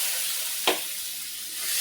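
Spice paste hitting hot oil in a pan during cooking of a Bengali pabda fish curry, a sudden short burst of loud frying hiss that settles into a steady close sizzle.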